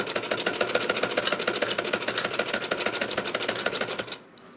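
A sewing machine runs steadily while stitching a kurti seam, its rapid, even needle clatter loud and close for about four seconds before it stops abruptly.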